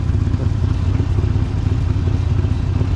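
A Harley XL1200X Sportster or Honda VT 750 S motorcycle engine drones steadily at cruising speed on a road trip from Hamburg, with a dense low rumble and rattling texture that stays loud and continuous throughout.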